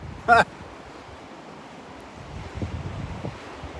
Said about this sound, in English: Very, very windy. Very windy out here today.